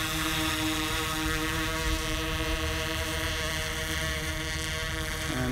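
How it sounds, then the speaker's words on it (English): Camera drone propellers spin up for takeoff above Edmonton, a steady, loud droning whir with layered tonal hum that holds throughout, shifting pitch slightly near the end. "Okay, guys, I'm going to take off now."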